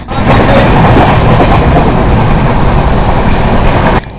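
From aboard the Dadar–Ratnagiri Jan Shatabdi Express (12051) crossing Kolad station, a loud, constant rumble of the moving train fills the space with steady rolling noise, dropping abruptly just before the end.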